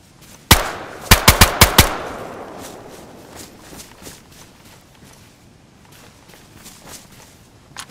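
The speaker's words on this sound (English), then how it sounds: "So this is us getting back and him shooting somebody right after jumping in." Gunfire in the DayZ video game, with one sharp shot followed by a quick burst of four or five close rounds, then quieter scuffling like footsteps and movement.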